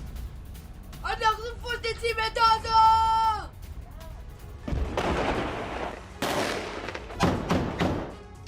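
Rocket fire and air defense interceptions in the Gaza conflict between Israel and Hamas, heard as sharp booms and crackling blasts in the second half, following a stretch of speech at the start.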